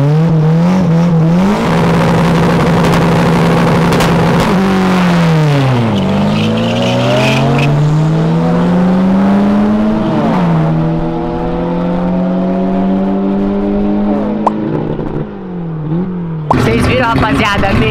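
A 300 hp VW Golf and a Chevrolet Opala race, engines loud and close, revving hard through rising gear pulls with sharp shift dips, tire noise in the mix and a burst of louder roar at the end.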